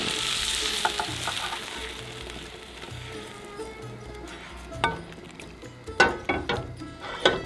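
Onions sizzling and frying in a pan for Lebanese vegan chili (makhlouta), a steady crackle with a few louder stirring scrapes near the end.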